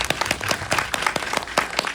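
An audience at a film screening Q&A applauds the director and actors, dense overlapping handclaps filling a small hall, close and continuous.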